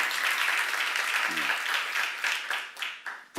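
A church congregation claps together during a sermon, a dense, sustained burst of applause that thins into a few scattered claps at the end, with a brief voice cutting through midway.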